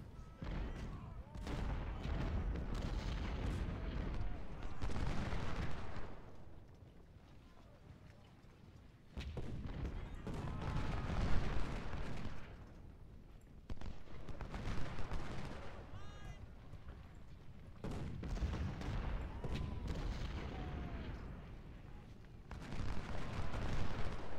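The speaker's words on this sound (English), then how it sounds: "Should be able to dissolve these skirmishers in a couple more shots." Civil War brigades trading volleys of musket and artillery fire in a battle game, crackling bursts of massed gunfire rolling in waves with brief lulls between, someone talking over parts of it.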